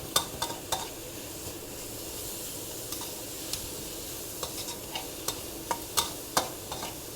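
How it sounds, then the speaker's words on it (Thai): Minced pork being stir-fried in an unwashed pan for macaroni, with soft scraping and stirring strokes and quiet sizzling, a few sharp utensil clicks on the pan standing out at irregular intervals. "ยีก่อนยีให้หมูมันแตกเยอะๆก่อน"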